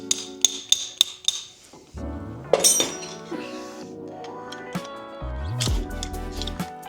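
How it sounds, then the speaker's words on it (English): A hammer strikes a metal pin several times in quick sharp clinks during a brake install on a Ford F-150, followed by scraping and clattering of parts being handled close by. "You should be able just to bang this off with a hammer or something heavy"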